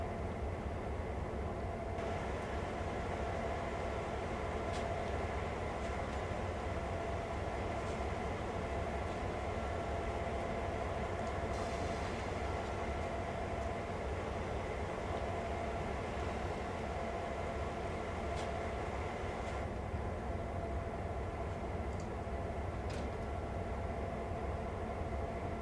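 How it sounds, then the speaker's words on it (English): A train in a train simulator video game pulls away after uncoupling from its rolling stock, a steady low engine rumble and hiss with faint clanks and squeals, even and continuous without talk. "I'm just going to move the train away from the"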